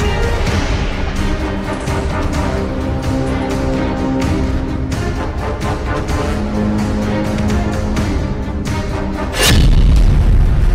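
Close-range explosions from a Hamas attack on Israeli tanks and armored combat vehicles in Gaza, a dense rumbling barrage of booms under continuous noise, ending with a heavier, louder blast near the close.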